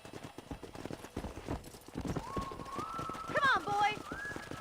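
Horse hooves trot in a steady, quick clip-clop rhythm in the Red Dead Redemption video game, heard over a player's spoken urging, with a bird-like whistle rising near the end.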